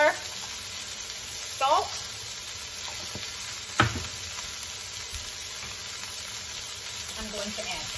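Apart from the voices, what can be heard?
shredded Napa cabbage frying in a pan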